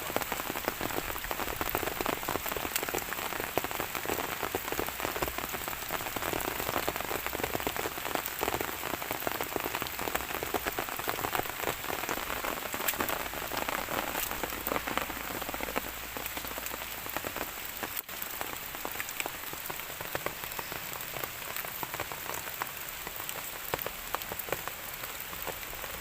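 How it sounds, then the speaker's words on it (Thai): Dense, steady rain pattering on a hard surface, constant and close, continuing without a break and with no voices. "ฝนตกอีกแล้ว"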